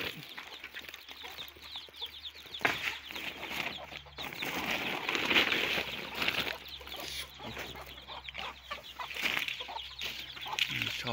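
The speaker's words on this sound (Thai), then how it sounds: "มาให้ไก่กันนะ" Chickens on a small home farm cluck busily while being fed, a dense, close flock chatter with overlapping calls and occasional wing flutters, continuous throughout.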